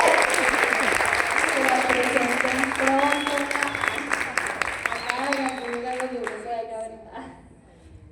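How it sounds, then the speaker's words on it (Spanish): A final round of audience applause after a cultural talk, sustained clapping under a voice speaking over it, then fading out toward the end. "Un último aplauso, por favor."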